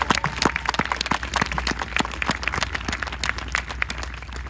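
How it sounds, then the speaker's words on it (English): Applause for a graduating eighth grade class at a school ceremony, a dense, steady crowd of clapping hands, close and loud, sustained throughout with some scattered louder claps. "Round of applause for this eighth grade class."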